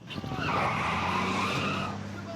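Trucks speed away in a cartoon getaway, tires skidding loudly in a long screeching squeal over a roaring engine, close and sustained.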